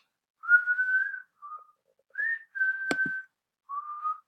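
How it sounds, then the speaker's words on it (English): A person whistles a series of five short, clear tonal phrases separated by brief pauses, close and fairly loud, with one sharp click partway through and no talking. "Yeah, I can do that whistle."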